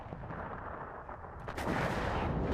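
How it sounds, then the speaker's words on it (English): An artillery strike in the video game WARNO, with deep rumbling booms of distant shelling that swell into a louder, denser barrage of heavy impacts in the second half. "It's a nice artillery strike."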